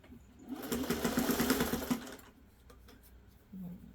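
A sewing machine tacks down binding on an old hexagon flower garden quilt. It runs a close, rapid burst of stitching for over a second, then falls to a quieter handling sound with a brief hum near the end.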